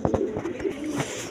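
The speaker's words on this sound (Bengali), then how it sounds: "দর্শকবৃন্দ, এখানে এক পেয়ার কবুতর আছে" A pair of Rajgolla pigeons cooing among other birds at a pigeon market, soft low coos under some scattered clicks and handling noise, close by.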